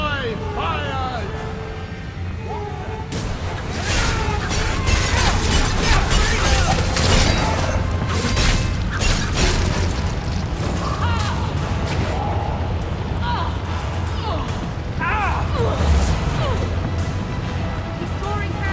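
Fire magic attacks blast in Dragon Age II combat, with repeated booming bursts and crashes over busy battle noise and shouted dialogue, loud and dense throughout.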